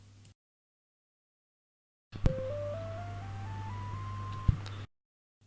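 A Commodore 64 SID synth instrument with a low-pass filter, composed in Sidwizard, plays a steadily rising run of stepped electronic notes over a constant low buzz. It lasts about three seconds, with sharp clicks at the start and end, and no talk.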